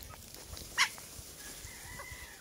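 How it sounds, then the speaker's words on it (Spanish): Backyard hens squawk and cluck as food is tossed to them, one sharp loud call standing out among faint scattered clucks. "Y obviamente todo esto es para las gallinas, así es que se las voy a aventar para que vean cómo se alocan."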